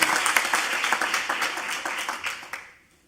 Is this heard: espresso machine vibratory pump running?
no